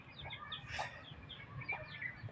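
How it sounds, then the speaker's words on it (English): A chicken clucks in short bursts outdoors among other farm fowl, moderately close over a busy natural background. "Too bad that chicken won't be spared though."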